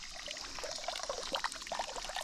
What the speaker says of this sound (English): There's water running out of the barrel.